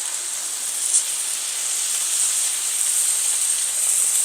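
Wine deglazing a hot oiled pan, a steady bright sizzling hiss that holds on continuously with a small crackle near the start, close and moderately loud.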